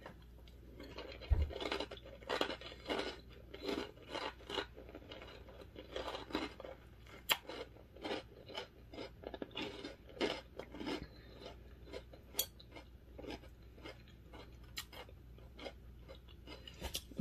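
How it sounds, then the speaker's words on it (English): Steady crunching of crunchy breakfast cereal being chewed up close, with many quick crackly bites in an irregular rhythm and no talking. "if you love crunchy, this has a really, really good crunch to it"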